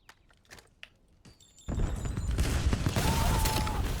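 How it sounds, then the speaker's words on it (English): Rocket launcher fire in a shooter game: after a few faint clicks and thuds, a loud blast erupts into a sustained, roaring rush of explosion noise that stays heavy to the end. "I got him with a rocket launcher."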